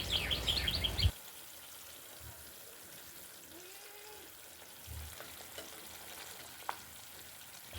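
A week's worth of milk cream cooks down into ghee in a wok, heard as a loud, brief bubbling sizzle that cuts off after a second into near quiet with faint, occasional stirring knocks.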